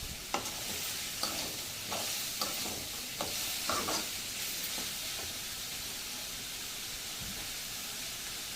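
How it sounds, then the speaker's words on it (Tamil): Carrots and beans with salt sizzle steadily in a frying pan as a spoon stirs them, scraping in a series of short strokes over a continuous hiss, close and without talk. "உப்பு போட்டு நல்லா கிண்டி விட்டுக்கிடுவோம்."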